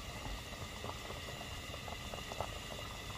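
Tteokguk rice cake soup with beef and oysters, seasoned with sand lance fish sauce, bubbling at a steady boil in a pot, a constant close simmering hiss dotted with small popping bubbles.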